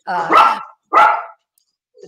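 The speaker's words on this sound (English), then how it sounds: "We have dogs in our house." Dogs in a house barking twice, loud and close, two sharp barks less than a second apart followed by silence.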